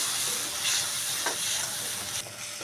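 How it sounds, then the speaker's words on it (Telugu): Methi fried rice with fenugreek leaves, soy sauce and vinegar sizzles steadily in a pan while being stirred, with a constant hiss and a few soft scraping strokes. "ఇప్పుడు ఇది బాగా వేగిపోయింది"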